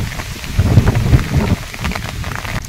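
Rain falls at the Rakkasakoppa reservoir near a hill station, a dense, steady hiss mixed with heavy wind buffeting against the microphone throughout.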